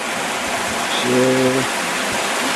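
Spring water from the Ein Yafaam spring pours into the Beit HaEmek stream near Yarka, a steady rushing hiss that stays even throughout, with a brief tonal hum rising briefly in the middle.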